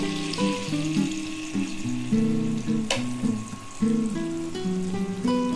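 Capsicum sizzles and fries in a pan while being cooked for suji pulao, giving a steady, fairly loud crackle with a few sharper pops under tonal background music.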